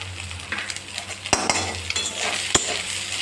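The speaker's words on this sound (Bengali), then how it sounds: "এটা মশলাটা একদম শুকনো করেই ভাজবো কোনোরকম আমি জল দেব না" Spice masala with tomato dry-frying in a pan for an egg ghugni, a close, soft sizzle punctuated by several sharp clinks and scrapes of a metal spoon stirring against the pan.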